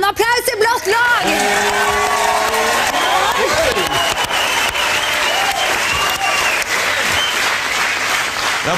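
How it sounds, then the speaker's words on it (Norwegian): Studio audience of a Norwegian TV game show applauding loudly and steadily for the blue team, a dense wall of clapping with some cheering, preceded by a brief stretch of talk. "vi vil gjerne ha en applaus i blått lag!"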